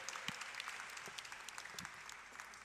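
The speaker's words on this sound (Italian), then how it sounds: "Gli direi di fare un applauso, perfetto." Steady applause from an audience fills the whole stretch, dense sustained clapping heard from a slight distance.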